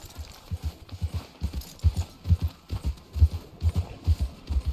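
Horse hooves clip-clop steadily through snow in Red Dead Redemption 2, a regular rhythm of soft, heavy low thuds close by with a faint wintry hiss behind.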